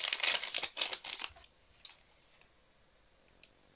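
Paper envelopes holding small stickers from a scrapbooking advent calendar are torn open, giving close, crisp bursts of crinkling and rustling followed by a few isolated soft clicks.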